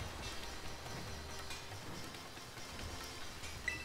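Steady rain falling in Pokemon Scarlet, a soft continuous patter and hiss at low volume with a single small tick near the end, no voices.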